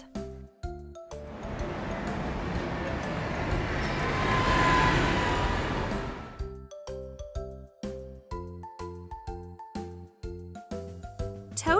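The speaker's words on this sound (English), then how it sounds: "London bus." A London bus rolls by with a broad engine rush that swells for about five seconds before giving way to cheerful music.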